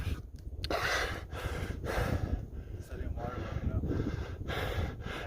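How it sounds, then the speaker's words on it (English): Heavy, ragged breathing of a hiker after a climb at high altitude on the Arizona Trail, repeated gasping breaths close to the mic with wind rushing in the background. "I'm still breathing hard"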